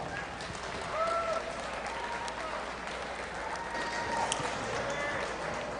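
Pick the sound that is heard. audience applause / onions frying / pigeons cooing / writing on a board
audience applause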